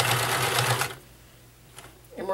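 A vintage Nelco convertible free-arm sewing machine runs in a short loud mechanical burst of stitching, then stops abruptly and falls quiet, with faint handling noise near the end.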